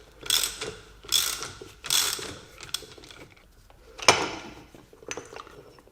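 Metal puller being fitted onto the pinion flange of a Jaguar S-Type differential: several close, loud bursts of metallic clanking and ratcheting, with a sharp clank near the end and quieter tool clicks between.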